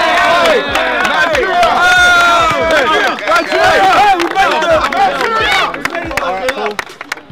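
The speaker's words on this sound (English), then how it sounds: "can we give a round of applause" Energetic crowd cheering and shouting for a most valuable player at a knockout football tournament, a dense roar of many voices with whoops that holds steady before thinning slightly near the end.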